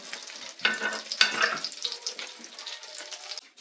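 Crappie fillets sizzle and crackle as they fry in a pan, a close, steady hiss broken by a few sharp pops and spatters, with no talking.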